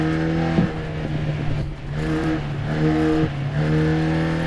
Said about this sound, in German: wie der Motor schon mittlerweile rasselt